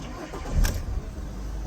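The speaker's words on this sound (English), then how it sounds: "let's turn the ignition on" The engine of a 2014 Fiat Ducato LWB van cranks and catches in one short burst, a brief starter whirr settling into a low idle, heard from inside the cab.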